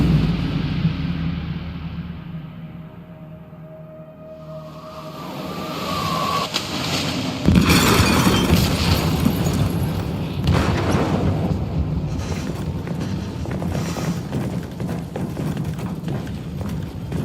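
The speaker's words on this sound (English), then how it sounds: "They detonated an explosive in the hold." A blast rips through a ship's hold in a video game, a broad rumbling boom that swells and rolls on, with further heavy impacts and a dense low roar carrying to the end.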